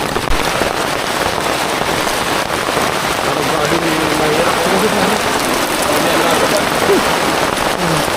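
Heavy rain falls steadily on a surface, a dense continuous hiss with scattered louder drops, loud and close throughout with faint background voices.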